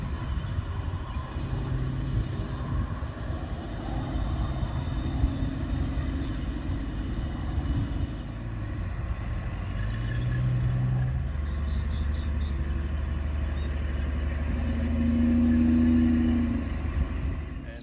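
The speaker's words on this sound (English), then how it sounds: "We've got an old 1942 International truck." An old 1942 International truck engine, a low steady rumbling idle heard fairly close, with a hum that swells toward the end and no voices.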